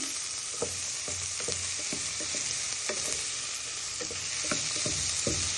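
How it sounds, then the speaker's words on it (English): Prawns and chickpeas being stirred in a frying pan with a wooden spoon, a steady sizzle broken by repeated scraping and knocking strokes of the spoon, close and moderately loud with no voices. "with your spoon, your wooden spoon, you just want to stir them till they get some colour on them"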